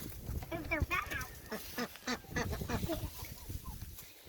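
Farm ducks quack loudly and repeatedly, a busy overlapping chorus close by, mixed with people talking.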